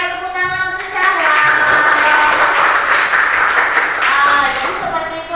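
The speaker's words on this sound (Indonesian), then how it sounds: "dan tepuk tangan untuk Syahra" A classroom of students claps for a classmate in a steady burst of applause, while a voice talks briefly before and after the clapping.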